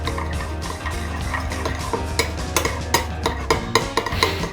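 Garlic being stirred into a tuna steak marinade, a steady run of scraping and clinking utensil strokes against a dish, fairly loud and close, with no talking.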